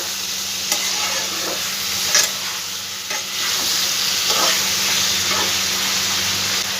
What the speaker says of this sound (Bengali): একটু ভালো করে সব সবজিগুলো একটু নাড়াচাড়া করে দেবো